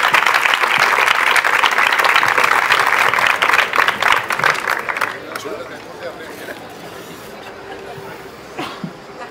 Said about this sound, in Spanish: un aplauso para mi gran amigo José Oscar López